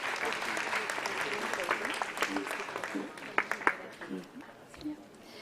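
Audience applause at an eye donation fortnight ceremony, steady at first and then breaking into scattered claps, with voices talking over it.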